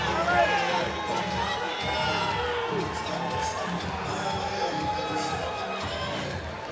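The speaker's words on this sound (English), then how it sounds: "The crowd showing their appreciation for these two heavyweights." Boxing crowd at an amateur heavyweight bout cheers and shouts in a sustained, dense roar with whoops and raised voices, loud and steady throughout, with a commentator talking over it.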